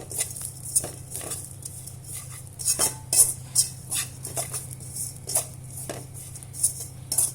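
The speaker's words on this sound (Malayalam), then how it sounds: "ഇനി നമ്മൾ തുടരെ ഇളക്കിക്കൊണ്ടേയിരിക്കണം, ഇല്ലെങ്കിൽ ഉലുവയൊക്കെ പെട്ടെന്ന് കരിഞ്ഞു പോകും." Coconut and fenugreek being stirred as they roast in a pan, a steady run of soft scraping and clinking strokes from the utensil against the pan over a low background hum, close by with no talk.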